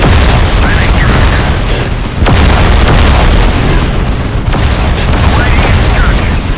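Imperial Guard artillery fires in the Warhammer 40K Dawn of War Soulstorm strategy game, heavy booming blasts over a dense, continuous roar, with a couple of sharper bursts standing out amid loud battle noise.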